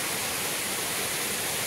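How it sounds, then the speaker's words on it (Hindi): Waterfall pouring over large rocks near a river, a loud, steady broadband rush close at hand with no other sounds. "बड़ी चट्टान है, इसके ऊपर से पानी गिर रहा है, मस्त क्या आवाज आ रहा है"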